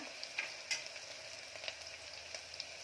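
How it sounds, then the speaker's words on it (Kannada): Spices for bisi bele bath tempering sizzle and crackle in hot oil, with a few sharp pops over a steady frying hiss, heard up close without any talking. "ಇವಾಗ ಒಂದು ಸಲ ಒಗ್ಗರಣೆ ಹಾಕಬೇಕು"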